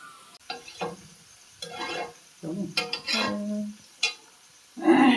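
Goat meat braising in a pan and stirred, with intermittent scraping strokes, metallic clinks of a utensil and bursts of sizzling, close-up and uneven, with a few pauses between strokes.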